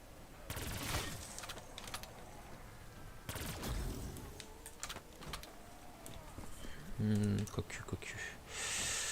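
Gunfire rattles in bursts through Black Ops 3 Zombies on the Shadows of Evil map, with sharp shots scattered across the clip over a busy game background. A player talks throughout.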